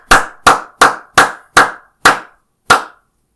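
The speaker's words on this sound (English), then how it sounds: "Seems like I'm the only one applauding." One person claps alone, seven sharp claps at a steady rhythm with a longer pause before the last, close and loud with no other sound.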